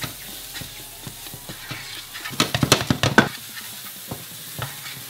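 Mushrooms and chili powder hitting a hot pan, a soft steady sizzle broken by a cluster of scraping, clattering stirring strokes in the middle, close and moderately loud with no talking.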